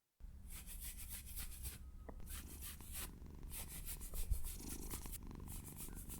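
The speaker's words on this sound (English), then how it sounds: "How will you react to some ear scratches," A cat purrs steadily and closely as its ears are scratched, a soft continuous rumble under rhythmic rubbing and scratching strokes, with no talking.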